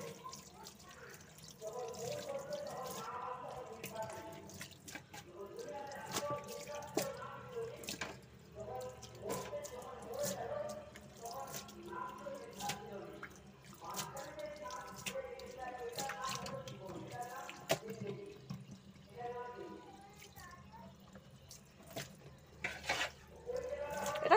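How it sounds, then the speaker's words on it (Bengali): Water runs and drips while a kitchen sink used only for washing dishes is cleaned, a steady splashing trickle close by with faint background noise throughout. "এবার সিঙ্কটা একটু পরিষ্কার করে নিই।"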